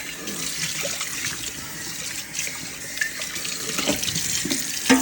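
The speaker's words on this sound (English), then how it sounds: "we're just going to rinse it off real quick" Tap water runs steadily into a pebble-coated wok as it is rinsed in a sink, a close, continuous splashing flow that swells slightly toward the end.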